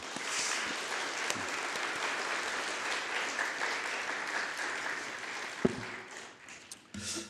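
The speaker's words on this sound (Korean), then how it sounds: "네, 박수" A church congregation claps together after a prayer, a dense steady applause lasting several seconds before thinning out near the end, with a few louder isolated claps.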